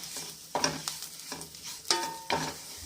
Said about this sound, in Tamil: இந்த ரெண்டையும் பொன்னிறமாக வறுத்து எடுத்து வச்சுக்கிறோம்